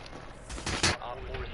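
Rapid gunfire in the tactical shooter Rainbow Six, a quick burst of sharp shots close up, with game sound around it.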